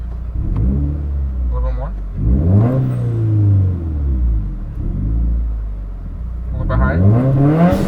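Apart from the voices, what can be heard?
car engine revving with Tomei Expreme Ti exhaust and Grimmspeed J-pipe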